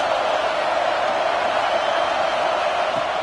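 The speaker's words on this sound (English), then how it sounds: "this crowd is turning it up a notch." Football stadium crowd at a college game roaring steadily before a second-down play, a dense, continuous wash of cheering that stays loud and unbroken throughout.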